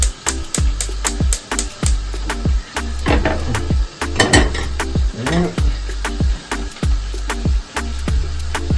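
A saucepan is handled in a home kitchen while wings fry, with repeated sharp metallic clanks and knocks at a fairly even rhythm over a low background sizzle.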